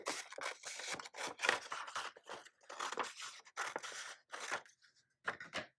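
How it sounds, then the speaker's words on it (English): Scissors snip through a vintage book page in a quick run of crisp, close cuts with short pauses between them, ending in a final pair of snips. "Just gonna cut this."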